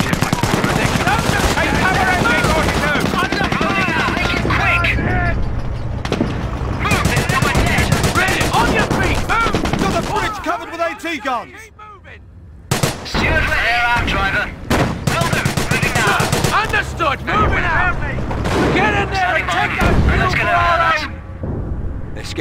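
Rapid German small-arms and machine-gun fire from the Company of Heroes battle at Hill 112 near Caen, loud and sustained in dense bursts with brief lulls, mixed with heavy combat noise and shouted voices.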